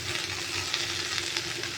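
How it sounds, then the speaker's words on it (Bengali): Mixed leafy greens, including red amaranth, bottle gourd leaves and note greens, fry in a pan with a continuous close sizzle and faint stirring scrapes, no voices. "5 মেশালি শাক দিয়ে নোটে শাকটাকে ভাজা করবো।"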